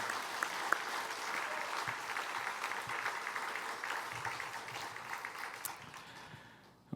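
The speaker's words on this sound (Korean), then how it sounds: "우리 아이들에게 우리 뜨거운 격려의 박수 한번 해주시면 좋겠습니다" A church congregation gives sustained, dense applause for the church's younger generation, a steady wash of many hands clapping that fades toward the end.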